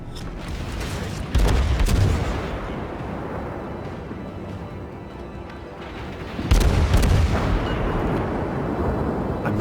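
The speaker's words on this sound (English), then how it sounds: "You can see the pair of us firing HE back and forth" Heavy naval guns boom from warships trading high-explosive shells in World of Warships, with the Admiral Hipper cruiser in the exchange; two loud, deep salvos land several seconds apart, each trailing off into a long rumbling roar.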